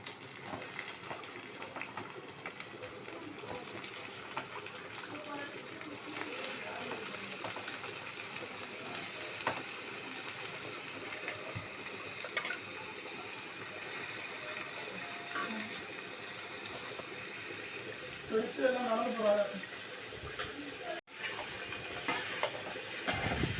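Chopped potatoes and onions fry in a pan, a steady close sizzle with bubbling and a brief stir near the end, running without pause.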